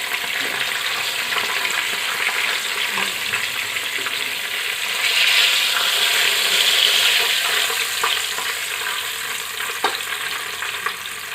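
Chicken sizzles and fries steadily in hot oil for a Saudi chicken mandi, a continuous dense crackle that swells louder midway and then settles, with no voices.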